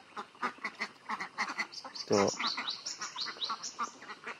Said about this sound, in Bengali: তো দেখেন এখানে কিছু হাঁস রয়েছে।